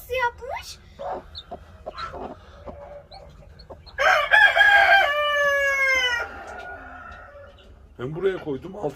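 A rooster lets out one long, loud, close crow in a new chicken coop, with scattered clucks around it and people talking nearby.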